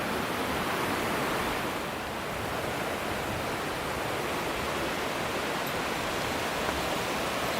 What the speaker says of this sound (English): Nice rapids.